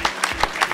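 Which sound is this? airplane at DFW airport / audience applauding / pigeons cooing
audience applauding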